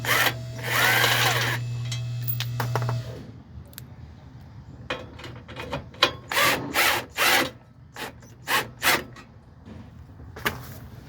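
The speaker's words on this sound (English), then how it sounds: "we're gonna unscrew the other two and take the shield off" A ratchet with a 12mm socket loosens fuel pump shield bolts on a 2017 Nissan Titan XD, with a burst of fast clicking followed by short spaced bursts of ratcheting and handling noise, close and alone.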